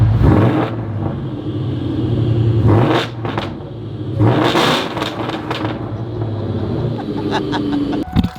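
A supercharged New Edge Ford Mustang revs up close with a deep rumbling idle, repeated sharp throttle blips and a rising whine, loud and with no talk over it.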